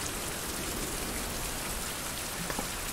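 Steady rain in the survival game Survival Fountain of Youth hisses evenly throughout, a dense, faint wash of falling drops with no other sounds or voices.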